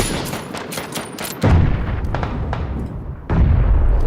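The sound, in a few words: gunfire in the video game PUBG (Battlegrounds)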